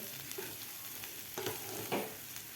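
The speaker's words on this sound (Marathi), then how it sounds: "मीठ घातल्यानंतर व्यवस्थित आपल्याला हलवून घ्यायची आहे भाजी" Salted fenugreek and dal vegetable being stirred in a pan, soft scraping strokes over a gentle sizzle, with a couple of louder stirs near the end; no talking.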